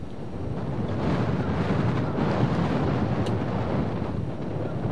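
Steady wind roars across an outdoor golf course, buffeting the microphone with a continuous, loud, broadband rush that barely varies for the whole stretch, with no voices.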